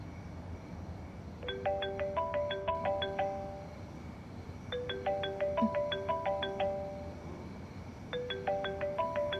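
Phone ringtone from an unknown number playing a bright repeating melodic chime in three clear bursts, moderately loud with no talking.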